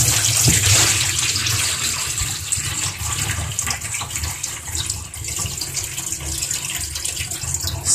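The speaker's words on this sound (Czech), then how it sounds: "Napustím vodou." Cold tap water runs steadily into a bowl to rinse salted cabbage for homemade kimchi, a continuous close splashing gush lasting the whole stretch with no talk.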